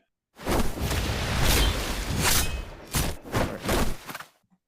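A sped-up Pyke "Plunder" ability effect from Ruined King: rushing whooshes and heavy thudding impacts crammed together, loud and up close, ending in a few quick clipped hits.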